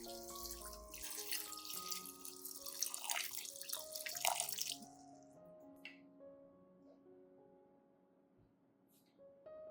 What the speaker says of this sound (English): Then add about 500 milliliters of clean water.